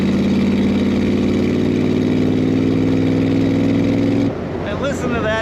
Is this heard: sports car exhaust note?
yes